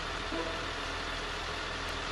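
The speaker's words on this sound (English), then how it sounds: "Go ahead and start the machine up." A Cat wheel loader engine in a loader simulator runs with a steady, continuous rumble that holds even throughout, without voices.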